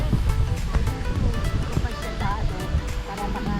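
Water rushes in a steady, dense roar at Hulugan Falls, close and loud, with wind buffeting the microphone and people talking over it.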